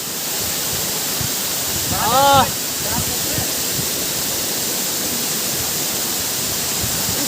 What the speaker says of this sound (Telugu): దిగ్గో ఏ సూపర్ ఏజెన్సీ వాటర్ఫాల్